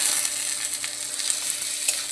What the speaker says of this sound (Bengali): দিয়ে লাড়বো, ভালো করে ভাজাবো